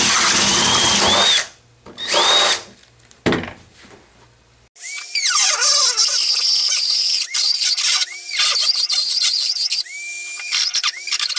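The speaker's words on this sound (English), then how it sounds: "We're gonna drill a 5/8 inch hole, then use the Dremel" A power drill cuts a 5/8 inch hole in PVC pipe, producing loud, close bursts of whirring and high squealing as the bit bites into the plastic, with short pauses between passes.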